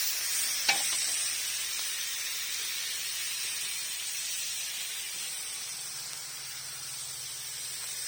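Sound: tomatoes frying in oil for menemen

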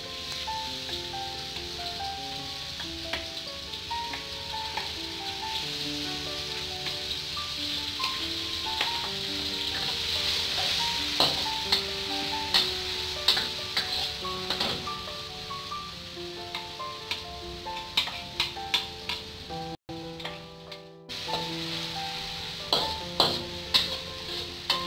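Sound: stir-frying chilies in a pan

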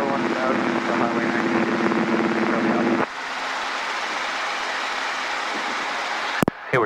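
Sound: Robinson R22 helicopter in flight

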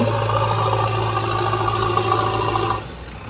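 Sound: JCB excavator working at a brick kiln

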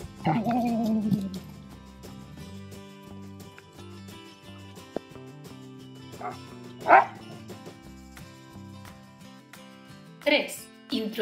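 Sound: dog barking for its toy

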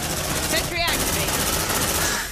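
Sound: sentry gun firing in the video game Aliens: Dark Descent

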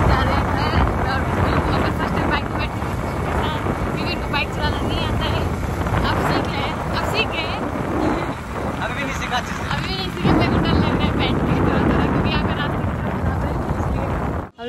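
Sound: wind blowing by a river

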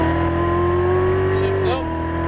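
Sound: Chevrolet Corvette C7 Z06 engine on race track

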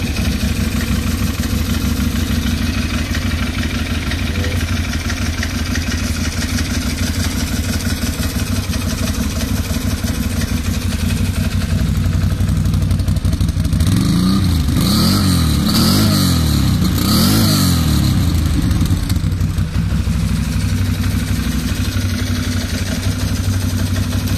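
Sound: Can-Am 650 motorcycle engine started, idling and revving

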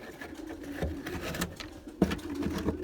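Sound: white Erzurum pigeons cooing in the loft

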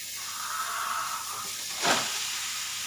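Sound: onions sautéing in a pan

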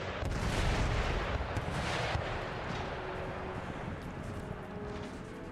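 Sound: howitzer artillery fire in video game Empire Total War

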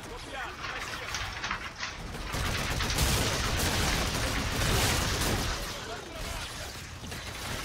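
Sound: gunfire in Call of Duty: Infinite Warfare video game

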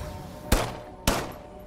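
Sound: pistol gunfire in the video game System Shock

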